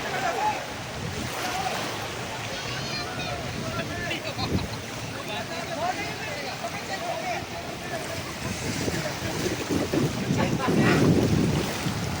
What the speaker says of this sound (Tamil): இந்த வருது பார்த்தீங்களா போட்டு.